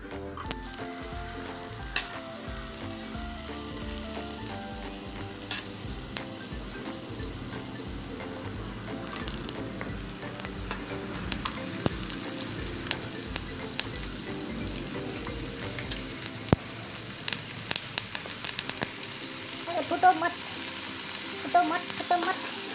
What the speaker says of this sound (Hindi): इस पटेटो को हम अभी फ्राई करेंगे।